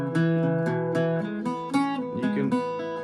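An Irish bouzouki plays Willie Coleman's Jig with cross picking, crisp plucked notes in a steady lilting jig rhythm, ringing drone strings sustaining beneath the moving melody, close and clear with no voices.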